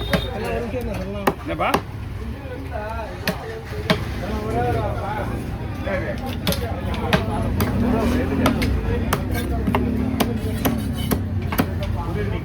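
Sharp, repeated knife chops through a big Kalavan fish at a Kasimedu fish-cutting stall, irregular strikes ringing out under near constant talking in Tamil and busy market background.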